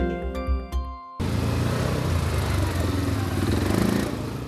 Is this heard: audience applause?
no